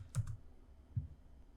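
A few soft, faint clicks of a computer keyboard, two or three keystrokes spread over a short quiet moment.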